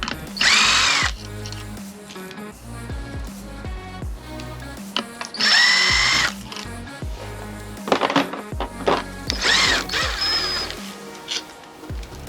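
Power tool driving out the five 10mm bolts on a Honda CRF 250 clutch pressure plate, loud repeated whirring bursts of a drill or impact driver, several separate runs with short pauses between, close up and without talk.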